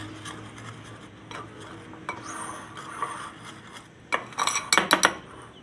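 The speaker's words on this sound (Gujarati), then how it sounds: "હવે આપણે આને મિક્સ કરી લેવું" A spoon scrapes and stirs a green garlic batter in a bowl, soft rubbing strokes that build into a run of louder metallic clinks against the bowl near the end; no voices.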